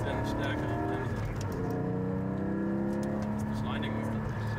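A Porsche Cayman GT4 718 braking hard and then accelerating on a road, with a steady engine drone whose pitch shifts as speed changes, fairly faint and continuous throughout.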